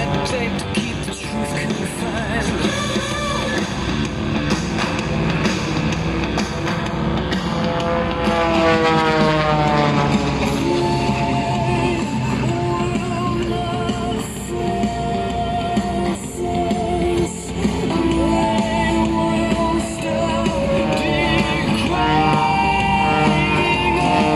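An aerobatic propeller aircraft performs vertical climbs and rudder turns at the Shellharbour airshow, its engine droning loudly and continuously with rising and falling pitch as it manoeuvres.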